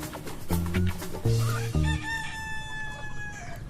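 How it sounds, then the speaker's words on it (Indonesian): A chicken clucks and crows loudly and close by in a few sharp bursts, then trails off into a drawn-out call with a faint background hiss. "Kayak ada ayam lagi."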